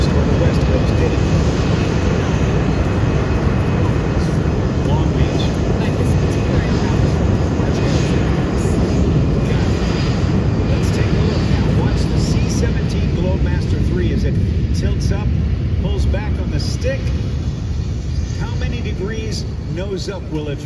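A C-17 military transport airplane at an air show at Miramar roars loudly and steadily throughout, a broad jet rumble that eases slightly toward the end, with people talking over it.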